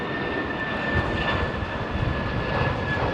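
An Embraer E145 departs runway 27R at Heathrow, its jet engines a steady broadband rumble with a thin whining tone on top, continuous and fairly loud throughout the short stretch, with no talk.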